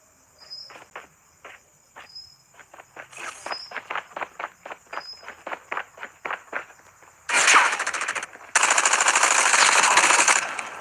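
Gunfire from a powerful weapon in the Call of Duty Mobile video game, first as a rapid series of sharp single shots, then two long, loud bursts of sustained automatic fire near the end.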